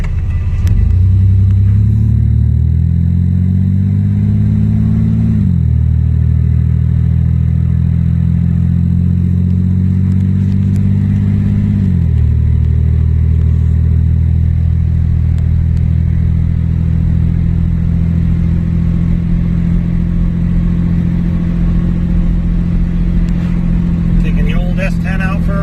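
A Chevrolet S10 pickup truck drives on the road, its engine loud and close from inside the cab, rising through two gear shifts before settling into a steady cruising drone with road rumble, and a voice speaks near the end.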